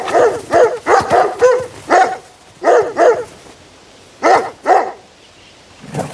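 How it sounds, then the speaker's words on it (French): Cartoon dog in an animated film barking in a rapid series of loud, close yips and bow-wows, with short pauses between bursts. "Il y a un chien qui va s'accrocher à la branche où il s'était réfugié."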